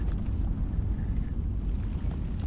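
An enemy explodes in the VR shooter Into the Radius 2, a dense, sustained low rumble filling the whole stretch with a steady roar and no speech over it.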